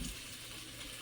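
Water pours off from a wok into a sink during home meal prep, a brief, faint, steady gushing splash with no talking.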